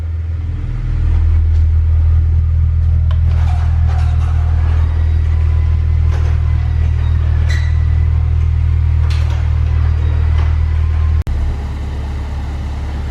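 A 2008 Honda Civic Si idles after a cold start in a garage, its steady low exhaust rumble running loud and unbroken, with a brief break near the end.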